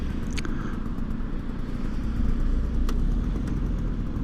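Cars and motorcycles move through town traffic, making a steady, fairly loud low engine rumble that swells slightly midway, with a few faint clicks above it and no voices.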